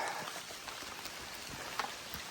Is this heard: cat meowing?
no